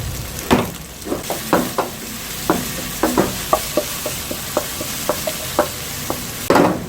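Chili peppers and garlic are stir-fried in a pan for kkanpunggi, with a constant sizzle behind a regular series of sharp spatula clacks and scrapes against the metal, close and loud with no talking.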